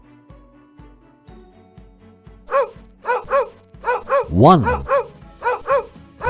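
A dog barks in a quick run of sharp, loud barks, close and repeating, with a short whimper-like yelp in the middle, while a voice counts aloud between them.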